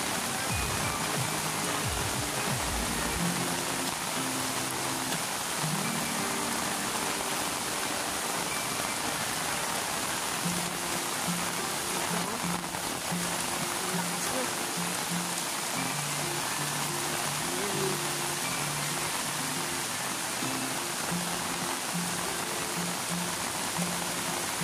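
Strong river current rushing continuously, a loud, steady broadband roar of flowing water close by with no pauses and no voices.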